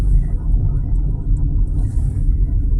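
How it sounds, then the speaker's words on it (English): Steady low rumble of idling and slowly moving cars stuck in a traffic jam near the lava fields of Kalapana on Hawaii's Big Island, a continuous close engine drone with no talk. "Traffic jam."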